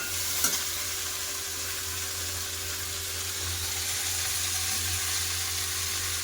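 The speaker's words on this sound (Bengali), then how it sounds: "শাক দিয়ে দেবে তাহলে শাকে সাথে পেঁয়াজটা ভাজা হবে" Greens and onion fry in a pan with a steady, even sizzle, and a light clink sounds near the start.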